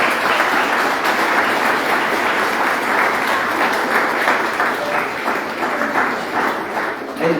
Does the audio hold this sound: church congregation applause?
yes